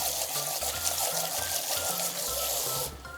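Dried shredded daikon radish being rinsed in water in a kitchen, steady running and trickling water with rhythmic sloshing handling, close and alone.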